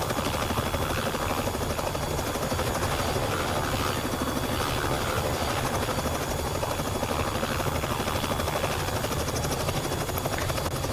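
A Robinson R66 helicopter in the X-Plane 11 flight simulator, its rotor thrumming steadily and loudly throughout, a constant dense roar with a rapid chopping pulse and high whine, no voices.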